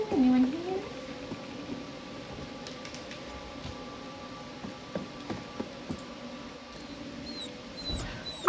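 A dog whimpers in the horror video game The Devil in Me: a sustained, wavering whine runs steadily for several seconds over a soft, rain-like hiss and scattered faint clicks.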